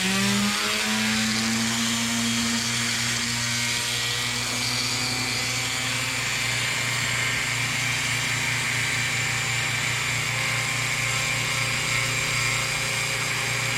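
A Dremel rotary tool spins up with a rising whine, then cuts in a loud, continuous, high-pitched grinding drone held close for the whole stretch.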